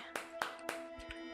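Three sharp hand claps at an even pace in the Signal Decay video game, followed by two softer taps, all close and fairly quiet over a steady low hum.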